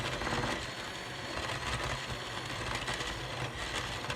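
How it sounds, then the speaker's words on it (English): An electric stand mixer whirs steadily while mixing cookie dough of butter and eggs, a faint, even motorised hum with a slight rattle running throughout, with no voices. "I'm gonna turn the mixer on again."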